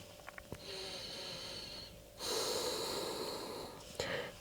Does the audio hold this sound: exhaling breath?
yes